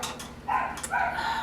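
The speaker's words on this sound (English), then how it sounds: "The dogs are barking." Dogs bark indoors in a few quick, faint yelps and barks, somewhat distant, with no talking over them.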